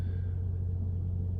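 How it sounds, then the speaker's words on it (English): A truck trailer's unit runs in the background as a steady low hum and rumble, continuous and unchanging throughout. "Some of y'all may be able to hear my trailer running in the background."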